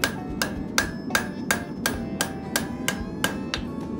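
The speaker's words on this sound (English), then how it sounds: "Use round side of the hammer." The round side of a hammer knocks a folded corner in, about eleven sharp, close strikes at a steady, even pace with no talking.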